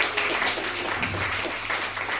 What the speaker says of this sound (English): Give a round of applause for Jane Rumsey!